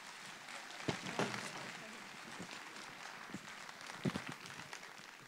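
Sustained, fairly distant applause from the audience at a sports awards night in Digne, a dense wash of clapping with a few sharper claps and a hint of crowd voices underneath.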